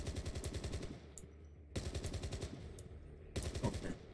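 Gunfire from shooting in an emulated video game: three bursts of rapid automatic fire with short gaps between them, loud and close, with no talking.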